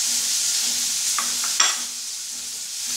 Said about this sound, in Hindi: मैं यहाँ थोड़ी सी ये प्याज को भून ले रही हूँ